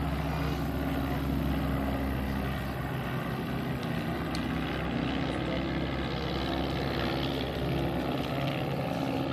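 A propeller aircraft of the kind built for the RAF and RCAF drones overhead at the Brandon air museum air show, a continuous loud engine rumble with no pauses throughout.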